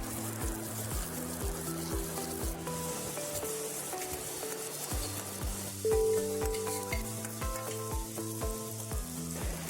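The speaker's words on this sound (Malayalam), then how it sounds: "ഇതിലേക്ക് അരിഞ്ഞു വെച്ചിരിക്കുന്ന സവാള ചേർക്കാം" Chopped onion sizzles in a pan under background music, with a spatula stirring it in occasional soft scrapes against the steady hiss of frying.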